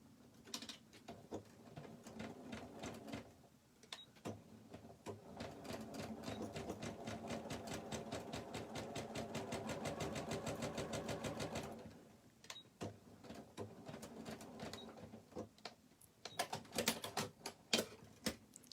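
A sewing machine stitches a seam on a pencil pouch in fast, even needle bursts, running steadily for about ten seconds with shorter start-stop runs and handling clicks before and after.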